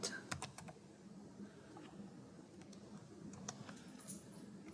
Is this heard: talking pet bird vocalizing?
no